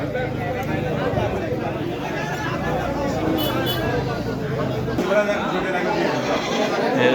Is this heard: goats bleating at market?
yes